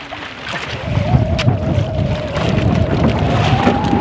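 Rain patters onto a small fishing boat at sea while its engine drones steadily underneath, a close, dense hiss of drops with gusts of wind across the microphone.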